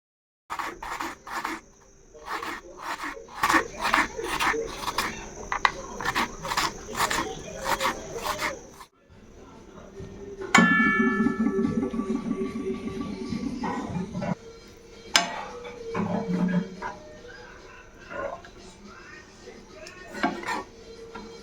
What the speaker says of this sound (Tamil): டமோட்டோ கொஜ்ஜுக்காக வெஜிடபிள்ஸ் எல்லாம் கட் பண்ணிட்டு இருக்கிறேன்